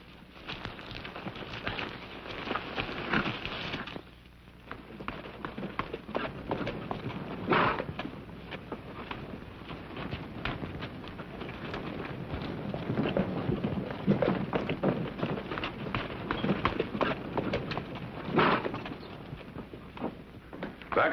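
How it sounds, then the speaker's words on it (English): Horses ride off in an old-time radio western, their hooves clip-clopping in a steady, busy rhythm at moderate volume, with scattered knocks and rustle and no talk over them. "Get on your horses."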